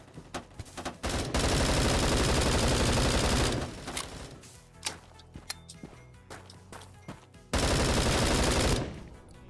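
Automatic gunfire in the shooter game Bullet Force, fired as long sustained bursts with scattered single shots and clicks between them, loud and close, with no talk over it.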